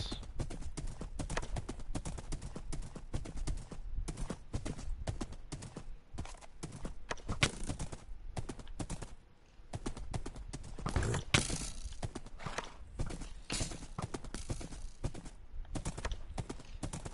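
Horse hooves clip-clop steadily in the Minecraft Bedrock video game while riding, a continuous dense trot with an occasional whinny, loud and close throughout.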